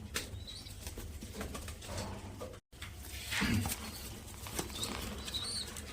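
A pigeon beats its wings in short, close bursts of flapping as it is set down, with a faint coo and light rustling in between.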